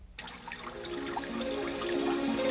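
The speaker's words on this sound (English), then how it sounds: "Open your senses to the soothing sounds of water," Water splashes and trickles from an indoor fountain, a continuous bright burble that starts abruptly and holds steady, close and moderately loud with no talk.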